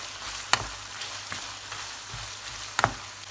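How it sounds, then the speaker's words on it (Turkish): Chopped red and green peppers, onion and garlic sauté in a pan with a soft, steady sizzle and a few sharp clicks of stirring, close and quiet, with no voices. "küçük küçük doğramış olduğumuz kapya ve yeşil biberlerimizi, soğan ve sarımsağımızı ilave ediyorum ve güzelce kavuruyorum"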